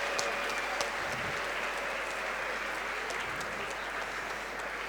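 Sustained applause from an audience at an African Group gala evening at UNESCO, greeting the Congo delegation; steady dense clapping throughout, fairly distant and even, with faint voices underneath.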